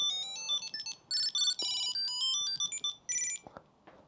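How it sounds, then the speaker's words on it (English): A Tile tracker sets a phone ringing with a bright, chirpy electronic melody of quick repeating notes in short bursts, heard close and alone. "Try finding your phone."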